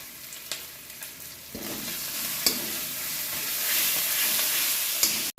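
Ginger and green chilli fry in a pan with a steady hiss, and an occasional clink of a utensil breaks through. The sizzle swells partway through and stays loud with no voices.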